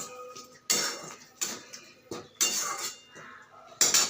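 Rajma being stirred in a pot with a spoonful of ghee, a metal spoon scraping and clinking against the pot in four loud, separate bursts with short pauses between.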